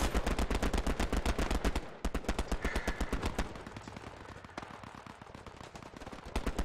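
Rapid automatic gunfire in the World War II shooter game Hell Let Loose, loud and close, with dense bursts of shots rattling steadily and briefly pausing before resuming at a slightly lower level.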